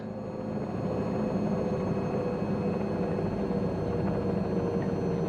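In Microsoft Flight Simulator 2020, an airplane takes off with a steady, loud, broadband engine roar and hiss that holds constant throughout, without voices.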